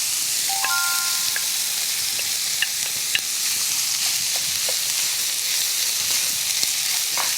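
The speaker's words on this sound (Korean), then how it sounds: "이때 미역 줄기를 넣고 볶으면서" Seaweed stems and sliced onion stir-fry in an oiled pan, giving a steady close sizzle and hiss with a few light scrapes of stirring.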